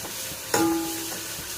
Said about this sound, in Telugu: సాల్ట్ 2 స్పూన్స్ వేసి బాగా ఫ్రై చేసుకోవాలి బ్రౌన్ కలర్ వచ్చేందుకు